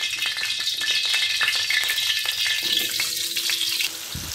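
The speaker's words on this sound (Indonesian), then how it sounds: "Minyak sudah panas, saya masukkan ubi kentang ini," Potatoes frying in hot oil in a wok, giving a steady, close crackling sizzle that stays loud and dense throughout, with faint kitchen clatter near the end.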